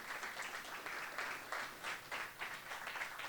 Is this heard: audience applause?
yes